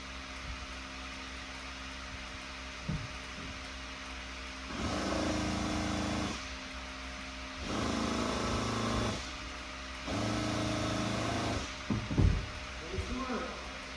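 A petrol Opel Astra engine runs after its break-in period, a steady mechanical drone with several louder stretches as it is revved, while people talk over it.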